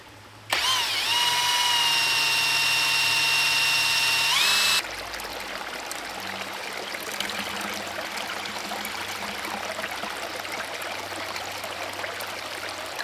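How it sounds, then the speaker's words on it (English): Water rushes steadily into the drive pipe of a ram pump, a loud, hissing flow for about four seconds that then drops to a softer, continuous trickle. "this is simply going to be filling up the drive pipe."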